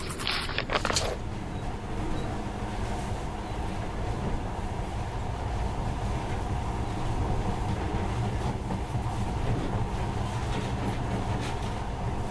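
A monorail train in the video game Metro Last Light Redux runs with a steady, dense rumble and rattling hiss, loud and continuous throughout, with a brief sharp burst at the very start.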